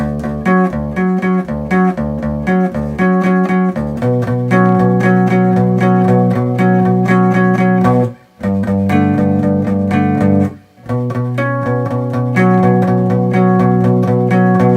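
A distorted electric guitar plays a driving, repeating riff, loud and close, with two brief breaks before the pattern resumes.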